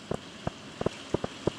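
Rain in the Stardew Valley video game: a soft steady hiss topped by distinct, evenly scattered droplet taps, moderately quiet and without any voices.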